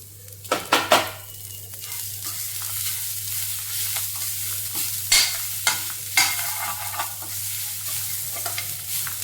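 Grated coconut is stirred through cooked drumstick greens in a pan, with a spoon scraping and clinking against the metal in several distinct bursts over a soft underlying sizzle.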